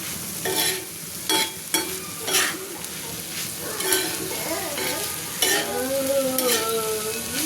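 Dry misal sukki is flipped and stirred in a pan, with scrapes and knocks of the spatula over a frying sizzle and some soft background voices.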